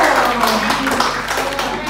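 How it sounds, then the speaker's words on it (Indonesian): A short burst of hand clapping for a participant in a community nursing role-play session about heart disease, mixed with voices talking over it. "Tepuk tangan dulu dong untuk Ibu Uung"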